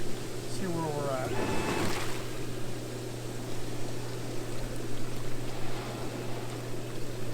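Hot tub pumps churn water in a steady, loud rushing wash with a constant low hum underneath, and a brief rising whistle-like tone early on.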